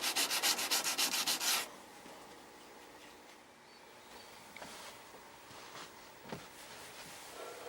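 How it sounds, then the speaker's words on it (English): A small brush scrubs brushing lacquer into the wood veneer of a black-and-white tube TV cabinet, a quick run of close, rhythmic scratchy strokes lasting under two seconds before the room falls nearly quiet. "Now I'm applying brushing lacquer again, using a small brush, and I'm kind of scrubbing it in"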